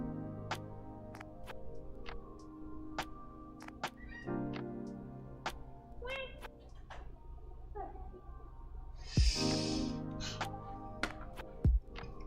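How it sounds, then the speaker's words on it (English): A house cat meows and makes chirping vocal noises several times in close succession, each call short and moderately loud, set against sharp clicks and light background sounds. "anytime your cat makes a noise"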